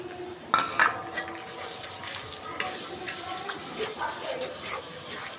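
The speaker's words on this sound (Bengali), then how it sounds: "এখন মশলাগুলো দিয়ে কষাই নিব।" Onion cooking in a pan with ginger-garlic paste, cumin powder and salt for khichuri, giving a soft steady sizzle while a utensil stirs and scrapes, with a few louder clinks of the pot near the start.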